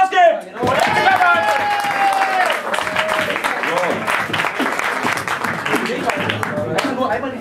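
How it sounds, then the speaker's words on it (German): Audience applause at a German singer-songwriter league show, dense clapping with some cheering that starts abruptly and continues steadily, with talk over it. "Das ist der Moment, wo ihr wieder Applaus gebt."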